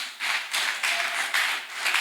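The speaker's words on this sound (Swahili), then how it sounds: "Piga basi makofi jamani." An audience at an Easter church seminar claps in loud, rhythmic bursts, each lasting roughly half a second, separated by brief gaps.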